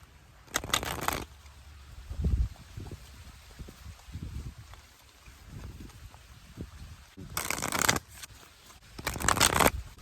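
Bursts of card shuffling, a few quick riffles near the start and two longer flurries near the end, with quiet soft rustles in between.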